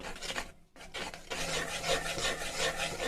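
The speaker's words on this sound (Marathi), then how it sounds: "तर मी असंच एक 10 ते 15 मिनिटं हे पूर्ण मिश्रण एकाच डायरेक्शनने फिरवून घेत आहे." Dhokla batter stirred by hand in one direction, a steady close wet rasping and scraping with a brief pause near the start.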